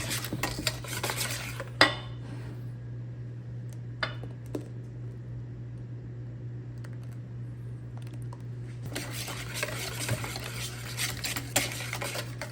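Pumpkin pie filling mixed with cream in a bowl: clinks and taps of a utensil against the bowl with scraping stir sounds, in bursts at the start and end, over a steady low hum.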